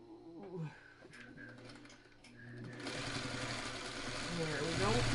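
Sewing machine stitching quilt blocks in a flip-and-stitch method, a steady motor whir that starts after a few seconds of soft talk and quiet handling and runs continuously to the end, close and moderately loud.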